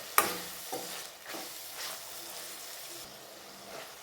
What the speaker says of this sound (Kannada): ಇದು ಎಣ್ಣೆಯಲ್ಲಿ ಫ್ರೈ ಆಗಬೇಕು ಚೆಂದಾಗಿ ಸ್ವಲ್ಪ ಒಂದು ಐದು ನಿಮಿಷ ಎಣ್ಣೆಯಲ್ಲಿ ಕುದೀಲಿ